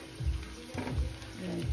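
Danggit, dried fish, fries in a pan with a soft, low sizzle and a few light stirring bumps, heard briefly and close.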